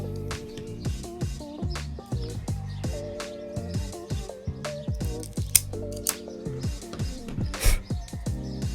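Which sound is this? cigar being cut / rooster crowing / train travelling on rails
cigar being cut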